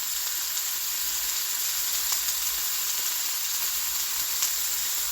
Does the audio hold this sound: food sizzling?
yes